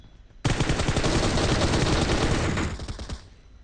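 An M4 rifle in PUBG Mobile fires one sustained, loud automatic burst lasting a couple of seconds, with dense rapid reports that tail off into a brief fading echo.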